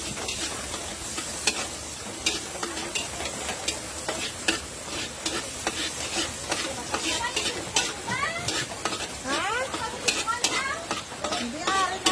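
Pancit noodles cooking in a pan give a steady sizzle and fry, with frequent clinks and scrapes of a utensil stirring against the pan, fairly close, and a few faint voices in the background.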